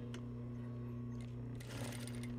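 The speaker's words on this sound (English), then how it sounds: "you're going to sew through the seam allowance of the waistband, fold it up," A sewing machine runs steadily and close while stitching a skirt waistband, its motor giving a continuous even hum with no voices.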